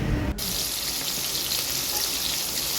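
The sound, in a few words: fish frying in a pan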